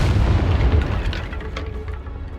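Confringo spell explosion in Hogwarts Legacy, a loud booming blast with a heavy low rumble that slowly fades over a couple of seconds.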